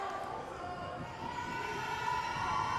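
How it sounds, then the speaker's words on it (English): Crowd noise at a men's college basketball game, a steady murmur and buzz of spectators in an indoor gym with a sustained tonal drone, rising slightly toward the end. "As the crowd makes some noise."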